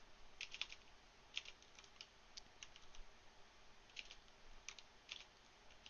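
Computer keyboard typing runs on for the whole stretch, a quiet, uneven patter of clicky keystrokes with a few sharper, harder taps scattered through, with no talking over it.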